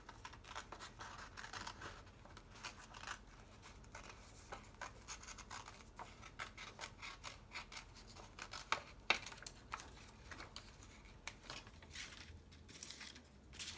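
Scissors snip out matching ear shapes through two stacked layers of paper for a handmade animal mask, a steady run of soft close cuts and crinkles that stays quiet throughout.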